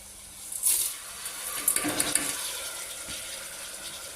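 Water poured into a pot of spiced rice with tomato, onion and potato, a short splashing pour near the start followed by a few softer splashes and trickles, close by with no voices.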